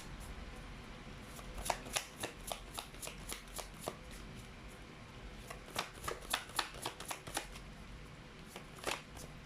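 A deck of cards is shuffled and pulled during a pick-a-card tarot reading, making close crisp riffling and flicking bursts in quick irregular runs with no talk.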